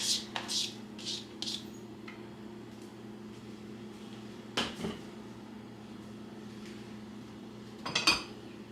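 Garlic is stirred in olive oil in a pan, with a utensil clinking and scraping against the cookware in short bursts over a steady kitchen hum, including a cluster of sharp clinks near the end.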